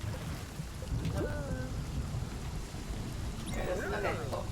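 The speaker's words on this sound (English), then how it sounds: "There it is. Okay, cool. A storm." A thunderstorm while sailing in Spiritfarer: steady rain and wind wash over the boat, with low rumbles throughout and a burst of rougher storm noise near the end, alone without talk.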